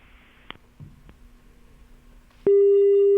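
Telephone busy tone after a dropped call on a live phone-in farming programme: a few faint clicks and knocks, then a loud steady electronic tone starts abruptly and holds to the end.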